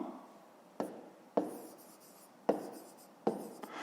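Pen strokes on paper while a fifth-grade math sum is written out by hand, four separate short scratches with soft rubbing tails, close and alone.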